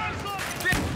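Gunfire in a competitive shooter video game: a quick cluster of sharp shots over roughly a second, mixed with game noise and a nearby voice.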